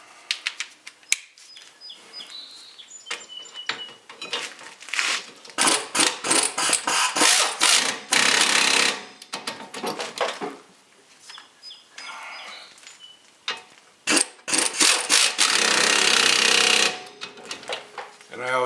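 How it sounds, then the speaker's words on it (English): A Harbor Freight impacting pneumatic air ratchet removing front brake bolts on a 2007 Honda Accord: loud bursts of rapid hammering buzz separated by hissing air, pauses and clanks, close by. "Harbor Freight impacting air ratchet"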